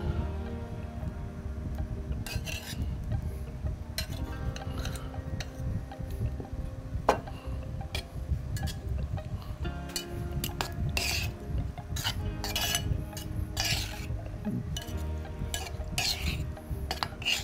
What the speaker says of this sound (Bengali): আমি এখানে একটা টং দিয়ে আমি এটাকে মিশ্রণ করব